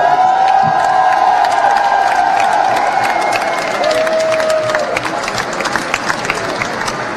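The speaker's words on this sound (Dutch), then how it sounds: "En daar een applaus voor onze hoogheid" Loud crowd applause and cheering at a Dutch carnival emperor's installation, sustained clapping with whoops and shouts filling the hall, a whistle-like tone sounding over the first seconds.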